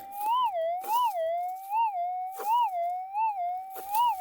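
Metal detector signal tone at a fresh digging site, a close electronic tone that warbles up and down in repeated sweeps for several seconds, with no talk.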